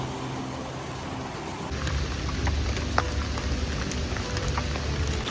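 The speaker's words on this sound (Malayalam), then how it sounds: "നല്ല കട്ട മഴ കേട്ടോ" Heavy rain pours down in Kochi, a dense, steady hiss of drops on surfaces that thickens and grows louder after the first couple of seconds.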